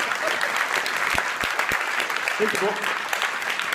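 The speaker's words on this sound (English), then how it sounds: "Give her a round of applause." Applause from a studio audience breaks out for an author of a best-selling book, steady clapping with a few sharper claps, and a voice speaks briefly over it.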